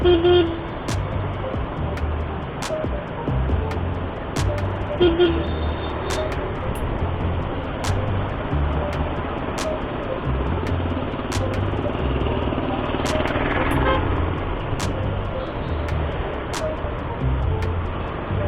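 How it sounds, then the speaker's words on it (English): Dense road traffic passing a Suzuki Burgman 125 scooter, with a constant rumble of engines and repeated short horn toots scattered throughout, close and fairly loud. "that U-turn is causing this much traffic"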